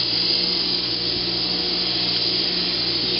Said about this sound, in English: So now we'll use the wire wheel and the Scotch-Brite wheel here to clean those up.